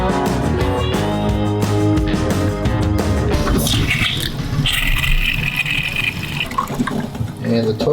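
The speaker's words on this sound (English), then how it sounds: "And the toilet has been flushed." A newly plumbed toilet in a Montana vacation home connected to a septic system, flushing with a loud rush of water and gurgling refill, partly under background music and a voice.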